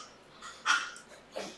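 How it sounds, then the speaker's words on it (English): A dog makes an odd, strange noise, two short breathy whimpering or wheezing bursts close by, separated by a brief pause, with no talk. "They call it a dog, but that's not a noise a dog makes."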